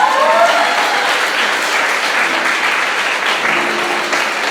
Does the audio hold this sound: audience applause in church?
yes